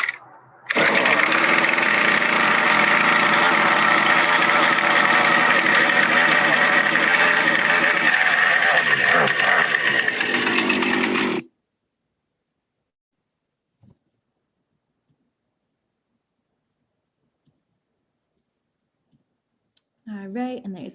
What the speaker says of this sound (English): start your chainsaw.